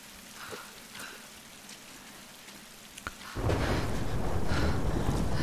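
Steady rain pours with a low rumble of thunder in a video game storm, growing suddenly heavier and louder partway through, with no voices.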